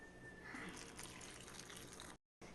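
Water is added to a chili and vinegar mixture, a steady close pour with a gurgling splash that runs continuously before a brief cutoff, with no talking.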